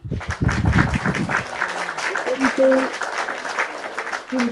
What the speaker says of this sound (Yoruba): pàtẹ́wọ́ fún yín